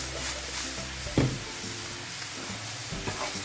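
Food fries in a pan sprayed with calorie spray while it is stirred, giving a steady close sizzle with a few soft scraping stirs and a brief louder clatter.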